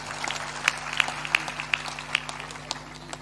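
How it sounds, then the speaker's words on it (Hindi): Scattered hand claps from a small audience at a spiritual discourse gathering, a handful of sharp distinct claps spaced irregularly over a low steady hum. "ताली बजाकर अभिनंदन करते"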